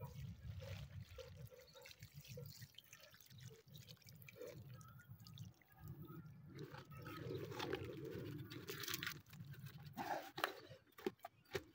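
Water splashes and trickles onto soil in irregular pours and drips while watering pepper plants, close by and fairly quiet, with a few sharp knocks near the end.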